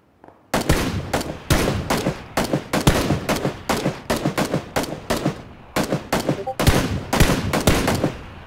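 Dense bursts of automatic gunfire ring out in a video game shootout around a church and houses, rapid cracking volleys in repeated clusters for several seconds, loud and close with brief gaps between them.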